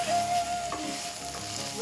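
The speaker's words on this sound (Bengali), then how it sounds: "আমি গ্রেট করা আলুটা কষানো মশলার মধ্যে দিয়ে দিচ্ছি।" Grated potato frying in a sautéed spice mix, a close, continuous hiss and sizzle with light stirring scrapes and a brief tonal squeak at the start, no talking.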